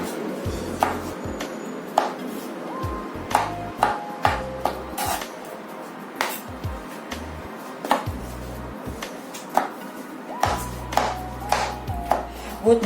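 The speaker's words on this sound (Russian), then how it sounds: "Берем грибочки и будем нарезать их кубиками." A knife chops mushrooms into small pieces on a board, a quick run of sharp knocks in uneven bursts with brief pauses, close and clear, with no talking.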